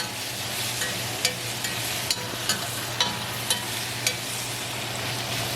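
Shrimp for tacos sizzles in a pan while being stirred, a steady close frying hiss broken by regular sharp scraping clicks of the utensil about every half second.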